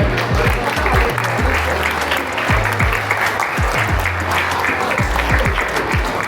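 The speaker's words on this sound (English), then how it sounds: "Please give a round of applause to our silver medalist, Suda from Japan." An audience applauds a silver medalist at the Asian Youth Championships award ceremony, a steady, dense clapping that runs the full length over a low, rhythmic musical backing.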